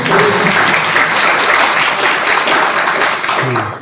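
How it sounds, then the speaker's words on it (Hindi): An audience at a Hindi-language seminar applauds an award, giving a steady, fairly loud round of clapping that runs for nearly four seconds without speech over it. "ताली तो बनती है ना आप लोग।"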